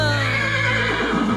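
A horse neighs loudly and close, one long wavering whinny that trails off, heard alone without voices.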